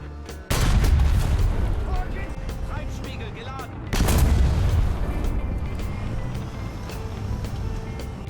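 Tank cannon firing APFSDS rounds in War Thunder, two heavy booming shots about three and a half seconds apart, each followed by a long rumbling decay under the idling engine.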